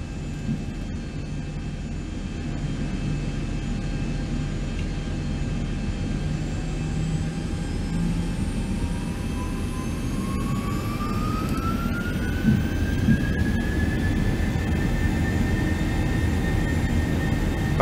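Twin jet engines of a Boeing 737-800 in the X-Plane 11 flight simulator roar steadily on the takeoff roll, a loud constant rumble with a whine that rises in pitch as the throttles come up.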